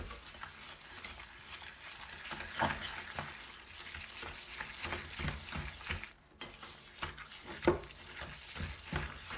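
Chocolate chip cookie dough being mixed by hand in a bowl, with soft, steady rhythmic scraping and thudding strokes that are fairly faint and close, and no talking.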